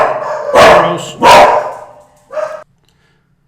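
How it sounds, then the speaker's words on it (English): Dogs bark at someone at the door, two loud close barks in quick succession followed by a shorter, softer yip, then silence. "There was somebody at the door and the dogs started barking."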